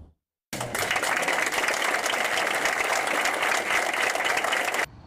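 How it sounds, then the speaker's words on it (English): Parents packed into a city council chamber in Trussville break into applause, a sudden dense burst of clapping that stays steady for several seconds and then cuts off. "One round of applause after another as parents filled the Trussville City Council chambers on Tuesday evening."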